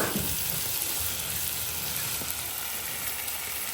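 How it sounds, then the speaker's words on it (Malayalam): Onions sauté in a pan for a coconut-milk chicken curry, producing a steady, dense close sizzle with a brief stirring scrape at the start. "നമ്മളെ ഉള്ളി ഇങ്ങനെ വഴറ്റി വരുന്നുണ്ട്"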